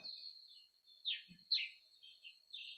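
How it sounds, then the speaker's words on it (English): Gray-crowned rosy-finches on the Pribilof Islands give short, faint high chirps and buzzy twittering notes in scattered bursts, heard distantly over near silence. "Those are gray-crowned Rosy-Finches singing in the background."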